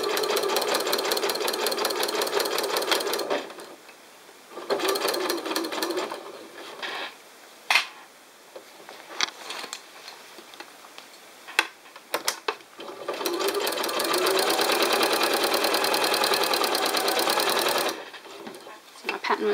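A sewing machine stitching straight seams in long, fast rattling bursts, close and loud, separated by short pauses with brief stops and handling sounds.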